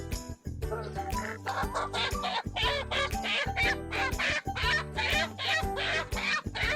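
Backyard country chickens cluck and squawk in a dense, continuous chorus from a close pen, with repeated loud calls overlapping throughout.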